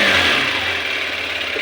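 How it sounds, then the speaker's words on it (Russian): The 125cc water-cooled engine of a Daytona Dymoto 125X enduro motorcycle runs close and loud just after starting, a rough, busy mechanical drone that eases slightly after the first moment. "Завелась эта Дайтона Дymото, залил топливо, подключил аккумулятор,"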